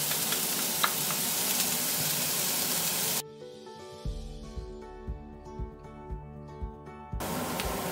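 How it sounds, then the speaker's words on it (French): Onions fry in merguez cooking juices with a loud, hissing sizzle that stops abruptly. A quieter stretch with rhythmic taps follows, then the sizzling returns at the end. "dans le même jus de cuisson, je mets tout de suite mes oignons. Et je vais les faire revenir un petit peu."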